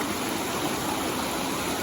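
A creek along the Appalachian Trail flows steadily near a small pool, a continuous broadband rushing of water with no speech.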